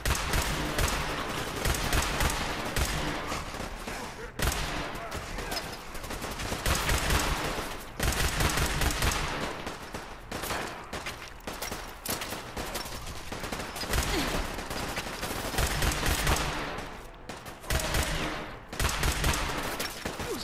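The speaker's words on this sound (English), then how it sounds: "Sounds like the gunfire's getting closer." Sustained gunfire in the video game Fallout 4, dense bursts of shots and automatic fire continuing loudly with brief gaps, close and intense, while a player talks at times.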